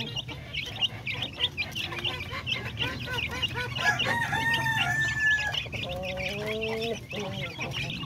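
A young Darag rooster crows loudly and close, its drawn-out calls rising over the steady clucking and chatter of three hens in a free-range pen.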